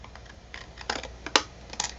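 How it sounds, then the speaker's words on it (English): Blunt scissors cut out a paper photo print for a cabinet card, giving a handful of crisp, irregular snips close by, with one sharper cut standing out against a quiet room. "See if I can cut it out without ruining it."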